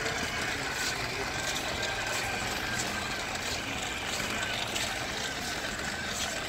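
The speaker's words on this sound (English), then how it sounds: "You guys, I'm driving a John Deere tractor." An RC John Deere toy tractor driven indoors in a Home Depot store: a steady, unbroken engine hum with broadband whir, constant in level throughout.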